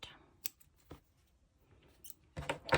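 Scissors snip off the end of crochet yarn, with a couple of short, faint cuts followed by a louder snip near the end, close up in a quiet room.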